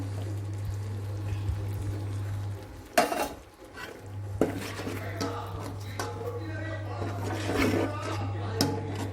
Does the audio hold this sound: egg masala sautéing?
yes